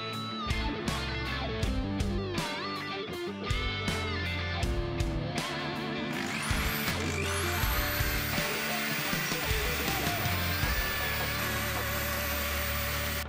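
A Snapmaker Artisan laser engraver works a wood-grain texture onto a wooden face, giving a steady mechanical whir with a rapid series of pulsing clicks early on, then a sustained motor hum with rising whines.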